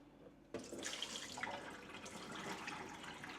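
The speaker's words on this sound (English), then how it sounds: "Let's dump the water from that partial clean and just see how dirty it is." Dirty water from a robot vacuum mop tray pours into a sink, a steady splashing gush that starts abruptly and runs on close by without any talk.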